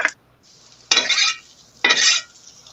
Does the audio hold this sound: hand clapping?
no